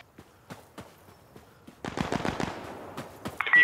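Burst of gunfire from new weapons in the tactical shooter Insurgency Sandstorm, a quick cluster of sharp close shots followed by scattered single reports and footstep-like clicks.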